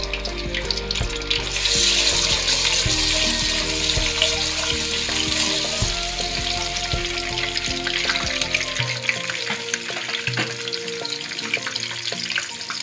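Ginger garlic paste frying in hot oil for prawn biryani, a loud continuous sizzle and crackle close to the pan, with a low background hum that cuts out partway through, and no voices.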